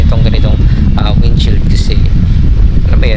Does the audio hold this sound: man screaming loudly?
no